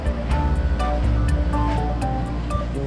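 Water runs continuously in a hotel restroom, a steady rushing wash with slight pulsing swells, close and fairly loud, with no talk over it.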